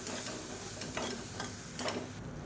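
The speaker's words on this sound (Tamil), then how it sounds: "இப்போ இது நல்லா கொதிச்சு வரட்டும்." A pan of masala for chicken roast bubbles and sizzles softly with a steady simmer, quiet spitting pops coming through now and then.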